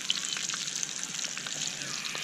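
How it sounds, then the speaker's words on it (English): Bacon fries over a campfire at a camping site, giving a continuous bright hiss and sizzle with fine crackling pops, heard close and fairly even throughout. "I show you how to cook bacon."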